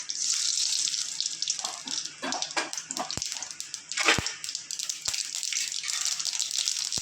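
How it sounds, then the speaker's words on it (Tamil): Mustard seeds sizzle and crackle in hot oil in a pan, tempering for a bottle gourd chutney, with a steady bright hiss and a few sharp pops close by and no voices. "வச்சு எண்ணெய் ஊற்றிருக்கேங்க அதில் ரெண்டு கடுகு போட்டுக்கிறேன்"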